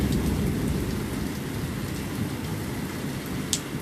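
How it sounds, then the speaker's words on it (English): Heavy rain pours steadily as a dense, even hiss of drops pounding surfaces, loud and continuous, with a faint distant rumble and one sharp tap near the end. "While it's raining, cats and dogs."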